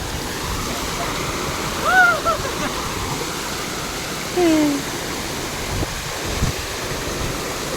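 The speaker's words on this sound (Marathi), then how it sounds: "त्या साईडला मस्तपैकी आंघोळ करू धबधबो तयार झालेलो आहे" Steady rushing water from a waterfall pours continuously, with a couple of brief voices or calls rising faintly over the roar.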